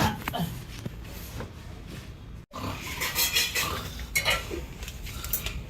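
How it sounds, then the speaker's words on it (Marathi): Metal kitchen utensils clatter and clank in a home kitchen, a jumble of scattered knocks and rattles with a brief gap partway through, then louder bursts of clanging. "भांड्याचा आवाज आला"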